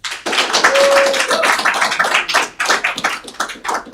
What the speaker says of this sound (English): I want a nice round of applause for Patrick Miller.